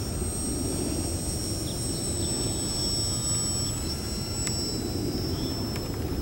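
A Cyberplanes RC Dragon model plane flies on half throttle on a chilly day in Las Vegas, its high thin engine whine held steady at a distance over low wind rumble.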